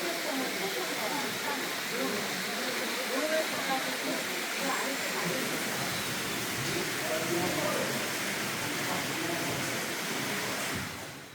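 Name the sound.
Deungseon waterfall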